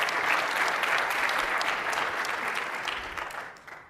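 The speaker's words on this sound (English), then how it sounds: "let's give another round of applause for them" An audience gives a round of applause at the live Robinhood Take Flight event, a steady crowd clapping that holds strong and then gradually tapers off toward the end.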